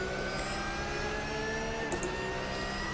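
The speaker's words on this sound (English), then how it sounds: "Possibly with a little bit more engine note in it." Car engine with a steady whine from the gearbox and drivetrain in the racing simulator Automobilista 2, a sustained, even tone holding at a constant level with no talk over it.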